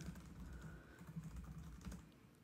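Faint, quick clicking of keys on a computer keyboard during a Revit drafting session, a soft irregular patter of keystrokes heard alone and at low level.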